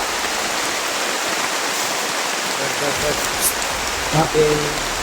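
Steady, heavy rain hisses continuously outdoors, a dense even patter, with a faint voice briefly audible near the end.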